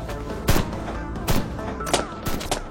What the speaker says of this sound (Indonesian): tiba-tiba tangan kanan Force datang dan langsung menembaki mereka